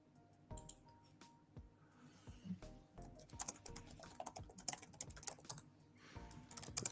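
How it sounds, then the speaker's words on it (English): Typing on a computer keyboard, quiet close keystrokes in irregular bursts that grow busier and denser toward the end. "Can you hear me typing?"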